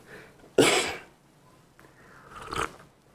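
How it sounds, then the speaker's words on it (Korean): A single loud, harsh cough bursts out from a preacher at a church pulpit, followed a moment later by a second, softer cough or throat-clearing sound, with quiet room tone between. "강단에만 올라오면 기침이 나와요"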